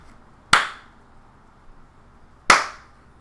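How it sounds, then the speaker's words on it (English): Two sharp hand claps, about two seconds apart, ring out close and clear in a quiet room, each followed by a short decay. "now we should be able to receive claps"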